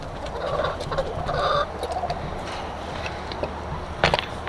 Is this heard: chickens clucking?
yes